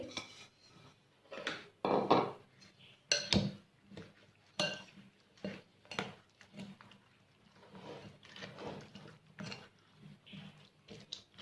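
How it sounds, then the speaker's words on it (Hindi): Chicken biryani marinade ingredients, green chilli and tomato among them, are stirred together in a bowl, making irregular clinks, scrapes and soft knocks of a utensil against the dish at close range. "तमाम चीज़ों को एक जगह मिक्स कर देंगे।"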